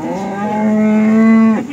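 A cow at a cattle market gives one long, loud, close moo that holds steady and then breaks off sharply near the end, with no voices over it.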